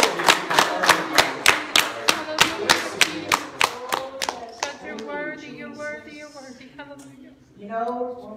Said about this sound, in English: Let's just give the Lord a good hand clap of praise.